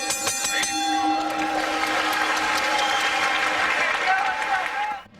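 A crowd in Anderson, Indiana applauds and cheers through a World Middleweight Championship kickboxing bout, steady loud clapping with whistles and a tonal whine over it, then fading abruptly near the end.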